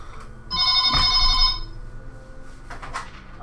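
A telephone rings loudly and close by in one short, bright burst, followed by a quieter stretch of room noise.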